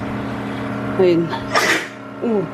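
A single sharp sneeze bursts out indoors in a home, set between stretches of nearby conversational speech.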